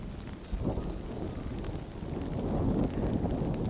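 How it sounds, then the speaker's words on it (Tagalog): Heavy rain pours down steadily in a dense, continuous roar, with low rumbling thunder rolling underneath and swelling slightly louder toward the end. "bumuhos ang isang napakalakas na ulan"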